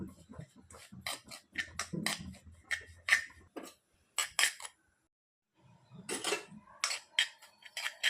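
Wheat rava being fried and stirred in a pan for homemade mango halwa, heard as irregular scraping and clinking strokes of a spoon against the pan, moderately close, with a short pause midway.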